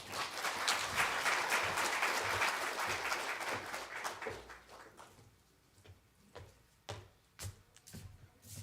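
An audience at the Namibia 2023 Census Main Report launch breaks into loud, sustained applause that fades after a few seconds into scattered individual claps.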